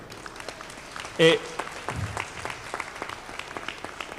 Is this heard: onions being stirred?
no